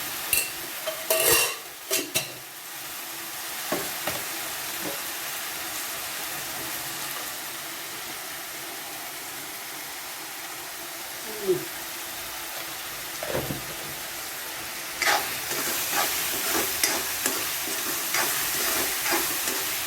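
Semolina for upma sizzles softly in a hot pan, with a steady frying hiss and occasional scrapes and knocks of a spoon against the pan as it is stirred.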